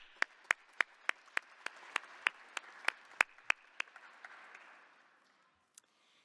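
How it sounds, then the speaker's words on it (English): Sparse, distinct clapping from an audience at a social innovation showcase, a steady run of sharp individual claps over a soft wash of applause that fades out, with one last late clap. "And I want to give you a round of applause."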